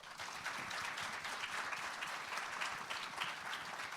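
Audience at a county affordable housing symposium applauds the panelists, a steady, dense round of clapping from a sizable crowd filling the whole stretch at moderate volume with no talk.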